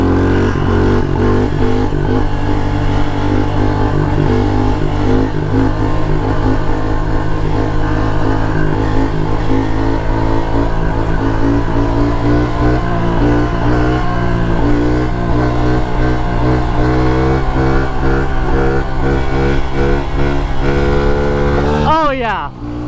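A modified, torquey pit bike engine revs hard and close, its pitch climbing and falling in repeated loud surges before cutting off abruptly at the end.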